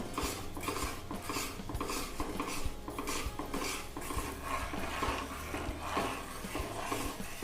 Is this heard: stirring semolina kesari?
yes